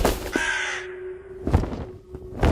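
A large crow perched on a house roof gives two or three harsh, close caws separated by short pauses, loud and clear with no talking.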